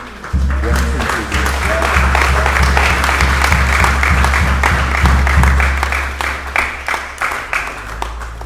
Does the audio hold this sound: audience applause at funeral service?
yes